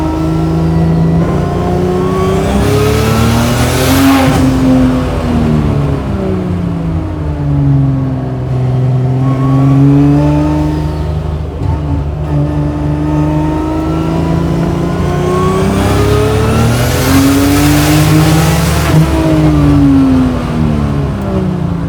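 A 700 hp 2JZ-powered Chevy Monte Carlo drift car with its turbo on, held in second gear, loudly revs up and down in long sweeping pulls, the engine note rising and falling repeatedly and close to the microphone.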